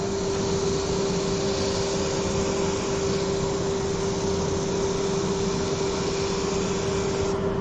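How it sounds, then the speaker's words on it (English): A dust extractor runs during wood turning sanding of a wooden bowl, producing a loud, steady roaring drone with a constant hum that continues without a break throughout. "turn the extractor on so you can sand."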